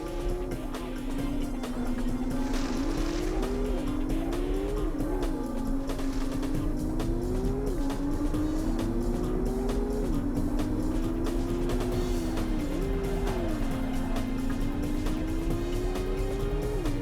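Porsche race car in the racing game Porsche Challenge, a steady droning engine note rising and falling with each gear change and throttle shift, loud and continuous throughout with no talk.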